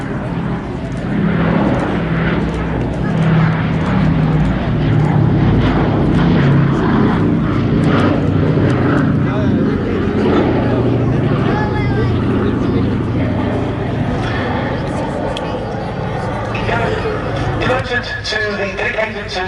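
A B-17 Flying Fortress propeller bomber passes at the Duxford air show, its rumbling piston engine drone loud and sustained over crowd noise and a commentator's voice.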